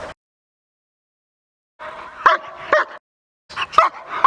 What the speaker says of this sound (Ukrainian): Це мисливська порода собак, англійський спрінгер спаніель.